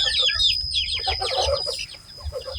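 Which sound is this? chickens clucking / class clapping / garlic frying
chickens clucking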